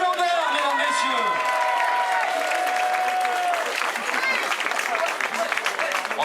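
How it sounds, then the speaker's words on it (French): Crowd applause for a cyclist on the podium at a road race prize ceremony, steady clapping throughout with cheering, while an announcer's amplified voice carries over the top. "En continuant d'applaudir comme ça"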